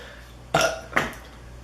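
Two short, close burps in quick succession while eating Taco Bell, loud and distinct over a quiet room.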